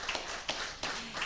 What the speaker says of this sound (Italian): un applauso così senti quanti sono le persone